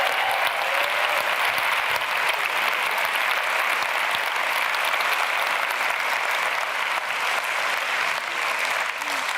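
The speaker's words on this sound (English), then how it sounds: "So can we give them a round of applause?" Audience claps for the production crew in a dense, steady round of applause that stays loud and even for about nine seconds, with no speech over it.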